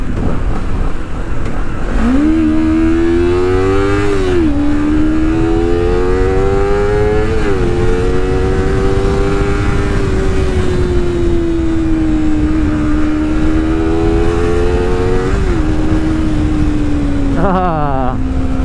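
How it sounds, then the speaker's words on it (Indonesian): A car engine revving up loudly and accelerating close by on a flyover, its pitch rising through the gears with brief drops at each shift. "di depan ada flyover, kita coba ngegas."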